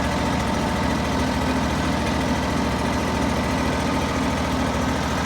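An engine runs steadily at idle after starting, a dense continuous low rumble with mechanical vibration, loud and close, unchanging throughout with no voices.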